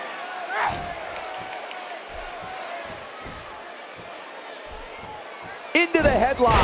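Loud arena crowd in Toronto from WWE 2K18 with a steady roar, and a sharp slam or burst of noise near the end. An announcer talks throughout over the crowd.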